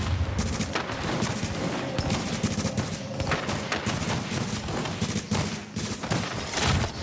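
Sustained gunfire in the video game The Division, with dense rapid shots and bursts overlapping in a continuous loud barrage for several seconds, and no talk.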